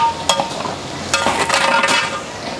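Onions frying in a large pan at a highway dhaba kitchen, steady sizzle broken by several sharp scrapes and clinks of a spoon stirring against the metal.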